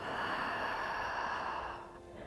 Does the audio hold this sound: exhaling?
yes